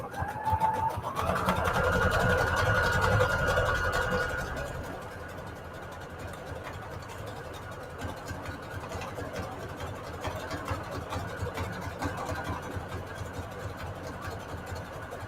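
A sewing machine runs a scallop stitch along cardstock for junk journal pockets, a steady mechanical whir that is louder for the first few seconds, then continues more quietly and evenly to the end.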